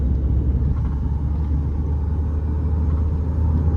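Mahindra XUV500 driving over potholes, its engine a steady low rumble with road noise filling the cabin throughout, no voices.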